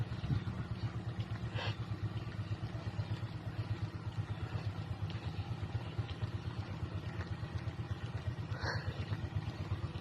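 A steady, droning irrigation water pump engine runs continuously at moderate distance on a farm, a low rumbling hum with a few faint clanks on top.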